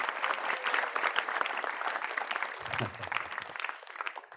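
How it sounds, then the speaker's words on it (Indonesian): Audience at a pesantren (Islamic boarding school) motivational event applauds their ustaz, a dense, steady wash of clapping that holds strong for several seconds with faint crowd murmur beneath. "Tepuk tangan buat Ustaz kita hari ini."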